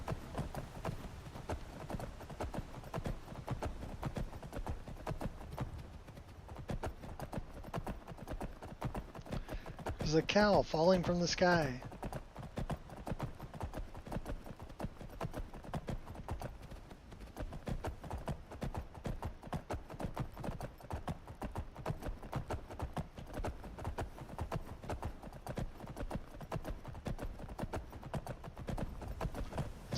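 Rhythmic hoof clip-clop of a horse galloping through modded Skyrim, steady and mid-distance across the whole stretch, with someone talking over it and a brief louder burst partway through.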